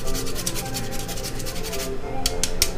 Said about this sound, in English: Now I'm going to grate in a tiny amount of fresh nutmeg.